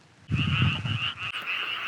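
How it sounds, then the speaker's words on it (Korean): Frogs croak in a dense, continuous chorus at a shallow lakeside fishing spot on Cheongpyeong Lake in Gapyeong, loud and close, with a steady rasping pulse and no voices. "와, 개구리 어마무시하네요, 진짜."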